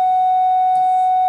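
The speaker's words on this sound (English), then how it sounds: "The bell." An electric bell in a classroom rings as one loud, steady, unbroken tone that lasts the whole moment and drowns out everything else.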